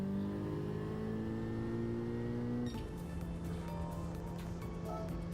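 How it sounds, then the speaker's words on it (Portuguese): Honda Civic Type R engine from the Gran Turismo 7 racing game, droning steadily at high revs, then dipping at a gear change about midway and carrying on with a rougher tone. "Honda Civic, um carrinho estável, né? Bonito essa corrente Type."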